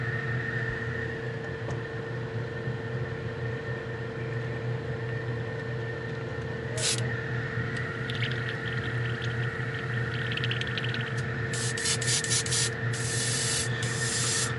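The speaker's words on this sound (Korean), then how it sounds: "도료를 뿌릴 때도 스페이스도 마찬가지고 이런 소리 느낌이 나야 됩니다" Airbrush spraying thinned plastic-model paint gives a steady, close, even hiss that runs unbroken throughout, with a few short sharper bursts of airflow near the middle and the end. No one speaks.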